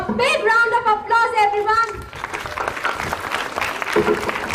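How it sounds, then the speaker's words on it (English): A school audience breaks into a big round of applause, dense clapping rising right after a speaker's voice and continuing steadily to the end. "A big round of applause,"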